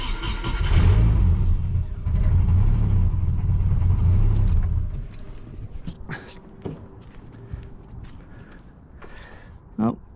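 A Nissan 240SX engine with a freshly rebuilt power steering pump filled with ATF cranks and runs loudly at close range for about five seconds, then drops to a quieter idle with scattered clicks and a brief sharp sound near the end.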